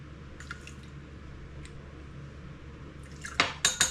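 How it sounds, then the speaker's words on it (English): Three tablespoons of tap water poured onto a dehydrated sourdough starter in a kitchen: faint quiet background, then several close, wet splashing drips and clinks near the end. "So I'm gonna start out by putting 3 tablespoons of water in."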